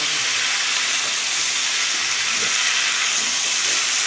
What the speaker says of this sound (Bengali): আলু সমস্ত সবজিটা দিয়ে একটু ভাজা ভাজা করে নিই